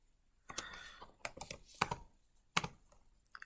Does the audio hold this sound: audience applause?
no